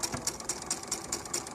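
A domestic sewing machine stitches a seam on folded fabric, a fast, steady mechanical whir with regular needle pulses, fairly faint and alone.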